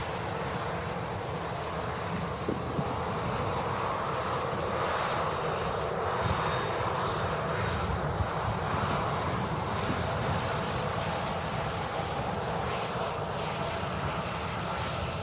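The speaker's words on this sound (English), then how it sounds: "here's the Sun Express arriving onto stand." A SunExpress airliner taxiing onto its stand at an airport, a steady close jet engine roar with broadband rumble and light wind noise throughout, no voices.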